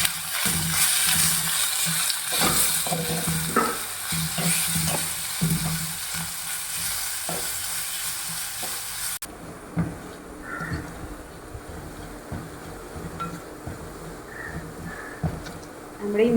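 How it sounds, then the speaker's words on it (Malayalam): Chopped ginger and garlic sautéing in a pan for a minced beef pickle: a loud, continuous crackling sizzle with repeated scraping stir strokes, then a quieter frying hiss, with a voice talking over it at times. "നമ്മുടെ ഇഞ്ചിയും വെളുത്തുള്ളിയും നന്നായി വഴണ്ട് വന്നിട്ടുണ്ട്"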